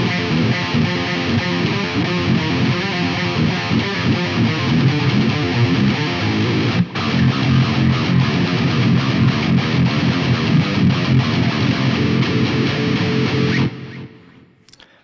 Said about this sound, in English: The guitar is definitely still front and center there